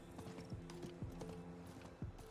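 Horse hooves clip-clop steadily in Diablo 4, several distinct hoof strikes at a brisk, even rhythm over low game ambience, fairly close and moderately loud, with no talking.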